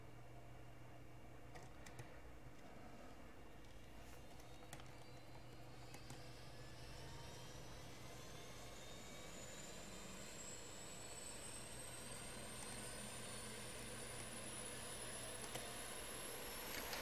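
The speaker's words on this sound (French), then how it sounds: "donc on va démarrer l'APU" An Airbus A320 auxiliary power unit spools up in a flight simulator, a steady engine drone with a whine that rises slowly and continuously in pitch throughout, loud and alone with no talking.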